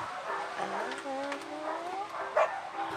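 Dogs at an animal shelter in Tarlac whimper and yip with thin, wavering whines. A sharper bark rings out near the end over a noisy background.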